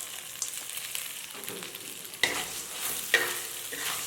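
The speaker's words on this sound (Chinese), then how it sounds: "锅内倒入一点油，放入麻椒炒香" Sichuan peppercorns and dried red chili pieces stir-fried in a little oil over low heat: constant close sizzling with scraping stirs and two sharp clicks of a spatula against the wok, no voices.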